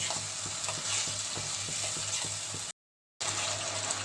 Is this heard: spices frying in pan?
yes